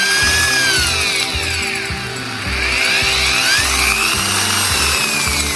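A small electric grinder running to cut pipe for hydroponics. Its motor whine rises and falls in pitch with a steady rhythmic pulsing underneath, loud and close.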